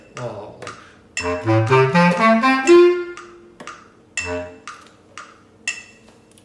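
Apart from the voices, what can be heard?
bass clarinet playing measures 32 and 33 soft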